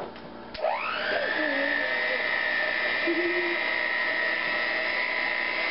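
An electric mixer whirs into shea body butter, starting with a click and then running as a steady high whine, close and continuous, with faint voices underneath.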